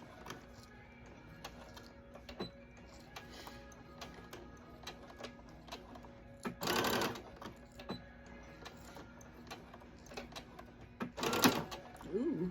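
A home sewing machine runs a straight stitch through a cloth diaper with rolled elastic in two short bursts, between stretches of quiet mechanical ticking and small clicks.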